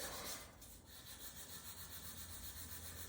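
Sandpaper rubbing dye stain off the back of a maple guitar neck, a steady continuous scratchy friction close by with no talk.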